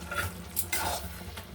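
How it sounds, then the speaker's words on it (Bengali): Fried potatoes are tipped into a pan of spiced masala for a Bengali potato and snail dish and stirred, giving a brief close sizzle with scraping and shuffling stir sounds. "এখন এবার আলু ভাজা ঢেলে দিচ্ছি"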